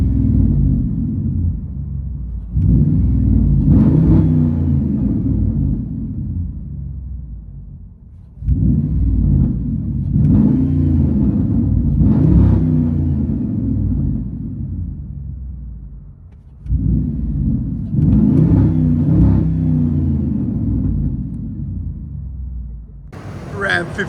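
Heard from inside the cab, a 2006 Ram 1500 5.7 HEMI V8 with true dual straight pipes revs in three deep, rumbling bursts, each swelling loud then easing off, with someone talking between them.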